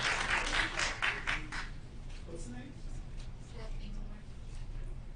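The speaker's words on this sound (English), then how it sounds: "It's hard to hear over the clapping, isn't it?" Audience clapping at a regular scheduled public meeting, a burst of applause in the first two seconds that fades into a murmuring room with some talk underneath.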